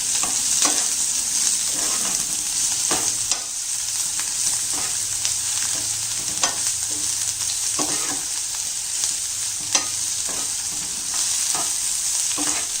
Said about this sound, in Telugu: ఇది కొంచెం గోల్డెన్ కలర్ వచ్చే వరకు వేయించాలి.